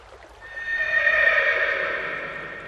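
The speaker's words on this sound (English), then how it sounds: "The horse Kantaka was so grieved to be parted from Prince Siddhartha" A single horse whinnies, a long wavering neigh that swells in the middle and trails off, fairly close and clear with no voices.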